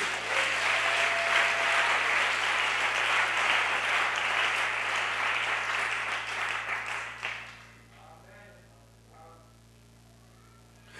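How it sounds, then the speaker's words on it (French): Church congregation applauding during a French-language sermon: loud sustained clapping for about seven seconds, then fading quickly into a quiet room where a voice is faintly heard. "Applaudissez pour Élisée."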